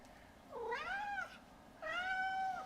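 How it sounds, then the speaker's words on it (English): Two drawn-out cat meows, close and clear, separated by a short pause, with faint room noise underneath. "by the way, that's actually my cat meowing."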